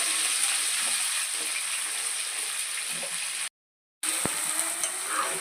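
Sliced onions and green chilies frying in oil, a dense continuous sizzle close by with a few faint stirring clicks and a brief gap of silence.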